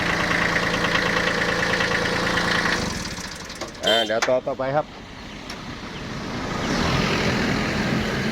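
An old Japanese TX 1401 tractor, three-cylinder direct-injection diesel with four-wheel drive, idles with a steady low chug through most of the stretch, briefly dropping as someone speaks, then returns.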